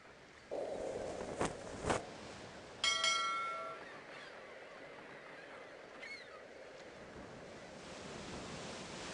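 Wind sweeps steadily over open sea with soft surf and wave wash, a broad constant rush filling the scene, broken by a couple of brief knocks near the start and no voices.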